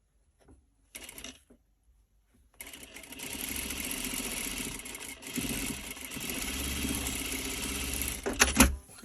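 Domestic sewing machine stitching a fabric bow onto a quilt block, a few short bursts and then a steady close run of fast mechanical whirring and clatter, ending in a few clicks.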